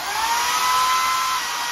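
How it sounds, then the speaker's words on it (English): A power drill bores a pilot hole through steel tubing for a receiver-hitch umbrella stand, a steady, close, high whine held for nearly two seconds with no talk. "Hopefully I'm drilling it straight."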